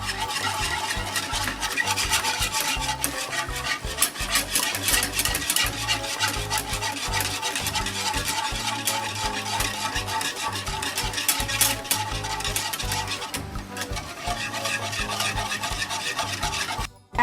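Red bananas being stirred in syrup in a pan over medium-low heat, producing a continuous scraping, rubbing sound with steady strokes that stays close and prominent throughout, ending abruptly.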